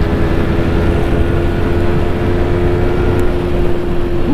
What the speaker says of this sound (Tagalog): Uy, ang bilis ng motor.